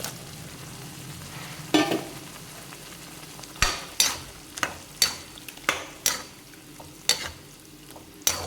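Prawns sautéing in oil with tomato and onion for a spicy prawn fry, a steady close sizzle broken by repeated sharp scrapes and clacks of a spoon stirring the pan, spaced irregularly, no talking.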